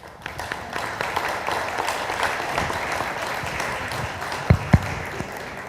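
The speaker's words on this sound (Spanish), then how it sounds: "le recibimos con un aplauso" Audience applause welcoming a guest speaker from a university political observatory at a lecture on the Mexican state, a steady wash of many hands clapping throughout, with a couple of sharper claps standing out near the end.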